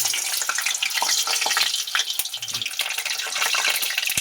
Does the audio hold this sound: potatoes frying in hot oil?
yes